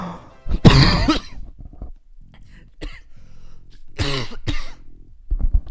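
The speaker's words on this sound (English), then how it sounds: "Suboptimal time to cough." A few sharp, harsh coughs close to the mic, with a short throat-clearing burst, separated by pauses.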